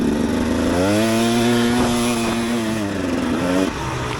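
A KTM EXC 250 dirt bike engine runs loud and close throughout, rising in pitch as it revs through the gears, easing off briefly, then climbing again near the end.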